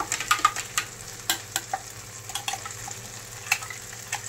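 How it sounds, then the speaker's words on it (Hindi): Masala with chili fries in a pan with a continuous close sizzle, punctuated by frequent sharp clicks and taps from a spoon stirring it. "अच्छे से फ्राई कर लेंगे मसाले को"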